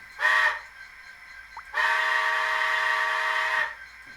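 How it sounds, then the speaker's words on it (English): A model steam locomotive's small whistle gives a short toot, then after a brief pause a longer steady blast lasting about two seconds, loud and close. "then a few short bursts of the whistle."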